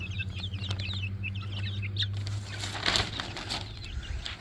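Young chickens hatched a month earlier peep and flutter in a yard exercise pen, with a steady stream of high chirps early on, then a few bursts of wing flapping and scuffling close by.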